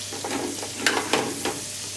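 Onion rings hitting melted butter in a hot pan sizzle steadily, with a few sharper clatters and stirring sounds close by.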